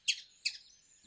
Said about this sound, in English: I think it's a squirrel, but it sounds like a little bird